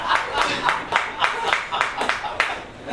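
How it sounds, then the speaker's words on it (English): Sparse crowd applause for a performer walking on stage at a comedy club, roughly a dozen distinct claps falling in an uneven rhythm, fairly close and moderately loud, with no voices over it. "Give him a warm round of applause"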